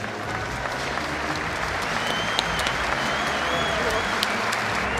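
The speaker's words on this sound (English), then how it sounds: "Sold out crowd showing their appreciation" Sold-out arena crowd at a bare-knuckle fight night in Montevideo applauding steadily, a dense, even wash of clapping filling the hall with a few louder claps poking through.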